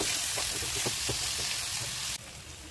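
Onion, ginger-garlic paste and tomato sizzle steadily in hot oil in a pan, a dense close hiss with faint clinks, softening slightly near the end.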